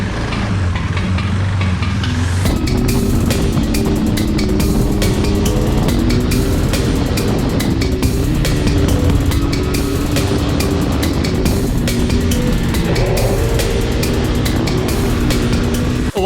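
A KTM RC 390 single-cylinder motorcycle of about 43 horsepower riding hard on a race track, heard loud and close from onboard as a continuous engine drone rising and falling through gear changes, with wind roar.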